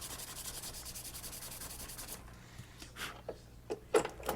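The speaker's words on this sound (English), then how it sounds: "I'll hit it with some sandpaper." Sandpaper rubs a plastic part of a Revell Star Wars AT-AT model kit in quick, even back-and-forth strokes for about two seconds, close and fairly quiet, followed by a few soft handling clicks and scrapes.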